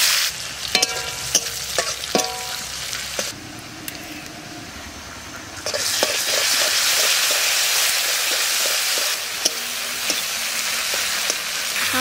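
Chopped onion drops into hot oil in a wok already seasoned with bay leaf, cumin and dried red chillies, setting off a loud, steady sizzle, with a few sharp utensil clinks and scrapes before and during the frying.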